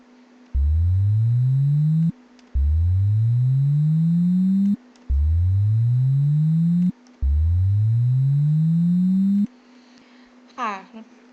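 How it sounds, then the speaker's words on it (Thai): Synthesized throttle-revving effect built from a rising tone, four separate upward sweeps each lasting about two seconds, loud and alone, with a brief faint chirp at the end. "สังเกตว่าเสียงจะเริ่มเปลี่ยนนะคะจะเหมือนเป็นเสียงบิดคันเร่ง"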